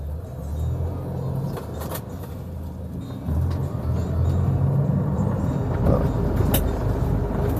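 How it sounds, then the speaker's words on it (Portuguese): A four-cylinder engine in a 1975 Ford Maverick Super revs steadily nearby, a deep, full-bodied rumble that swells and holds through the clip with no talk. "4 cilindros roncando"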